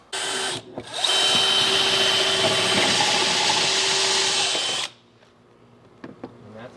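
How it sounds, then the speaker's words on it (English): A power drill with a 3/8 bit bores through a garage wall and out the stucco on the backside, a loud sustained whine lasting about four seconds before stopping abruptly, followed by quiet clicks. "We're running a 3/8 bit, and we'll drill through the wall, out through the backside wall, through the stucco."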